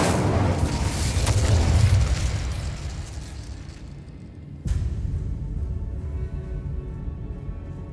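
An Incendio fire spell in Hogwarts Legacy bursts in a rumbling blast that swells over the first two seconds, eases off, then flares again with a sharp crack partway through and a sustained roar.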